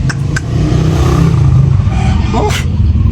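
A motorcycle engine revs loudly and steadily up close with a deep, rumbling low end, while people talk and shout over it.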